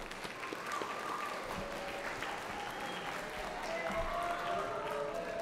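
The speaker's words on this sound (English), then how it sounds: "Round of applause for the first in class" An audience claps in sustained, dense applause at an academic excellence awards ceremony, the rapid mass of hand claps holding steady and fairly distant throughout.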